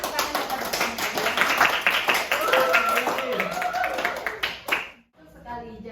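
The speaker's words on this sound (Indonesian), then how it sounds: "Beri tepuk tangan kepada" A classroom full of students claps in a dense, steady burst of applause with voices mixed in, lasting about five seconds before cutting off abruptly into near silence.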